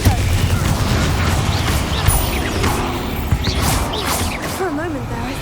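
Spell effects from the game Hogwarts Legacy: a dense run of magical bursts, whooshes and crackling impacts cast one after another, loud and busy throughout with a voice calling out in the mix.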